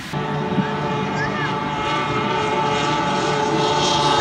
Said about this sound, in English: racing is underway for the Owensboro HydroFair